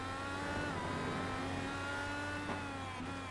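IndyCar IR-18 race car engine in a racing video game on the Interlagos circuit, a steady high-pitched whine with layered harmonics holding near-constant revs and a slight shift midway, loud and continuous with no talk.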